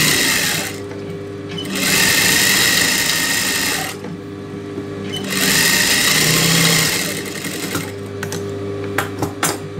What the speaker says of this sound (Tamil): சுற்றி ஒரே அளவு அப்படியே தையலாக போட்டுக்கலாம்.